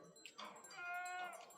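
Sheep bleat faintly in a flock along a mountain walking trail, with a short wavering bleat and soft overlapping calls over about a second and a half.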